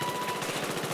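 Rapid automatic gunfire from the Battlefield 4 video game, a steady fast rattle of shots lasting a brief second, moderately loud with no talk over it.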